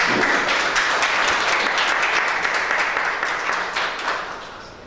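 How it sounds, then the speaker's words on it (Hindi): Loud sustained applause from a large church congregation at a Sunday morning service, steady for several seconds before gradually fading out. "परमेश्वर की महिमा के लिए तालियां बजा सकते हैं"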